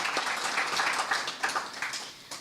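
Audience applause at a live event, a steady dense wash of many hands clapping at moderate distance, continuous through the moment with slight swells and no talk over it.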